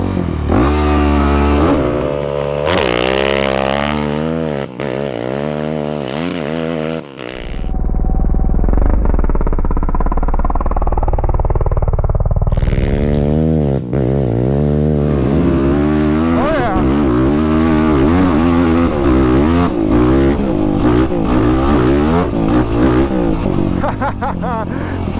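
A dirt bike on Obor Advent tires launching in second gear on wet sand, the engine revving hard in rising and falling sweeps, then briefly muffled before roaring loudly up close again.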